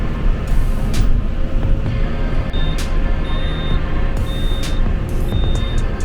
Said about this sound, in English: So much for no beeping sounds.